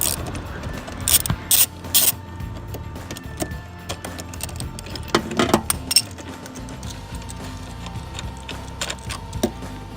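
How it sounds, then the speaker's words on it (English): A ratchet wrench with a 16mm socket loosens car seat bolts in a 240SX project car, giving bursts of quick clicking pawl ratchets and metallic clanks, close and moderately loud, with no talk. "you're going to need a 16mm socket, and then you start loosening the bolts"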